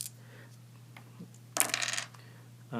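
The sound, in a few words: two dice rolled in a board game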